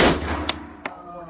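Two sharp AR-15 rifle shots crack close by with a 30-round magazine in California, each followed by a ringing echo that fades out.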